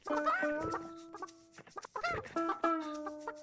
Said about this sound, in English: let's bother some chickens.